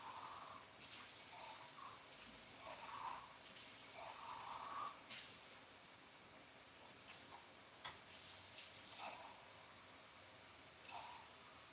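Water runs steadily from a tap, fairly faint and continuous for several seconds, with small splashes and clinks as a cup of painting water is rinsed and refilled.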